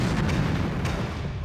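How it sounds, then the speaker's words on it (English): Battle sound effects of an artillery barrage and explosions at Kursk, a dense continuous rumble of booming fire without breaks, loud and enveloping. "constant explosions."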